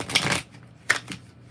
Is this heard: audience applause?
no